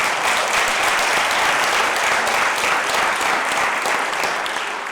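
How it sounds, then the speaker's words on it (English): A large audience at a school district State of the Schools address gives student helpers a round of applause, a dense, loud, unbroken wash of clapping lasting throughout. "Let's give them a round of applause as well."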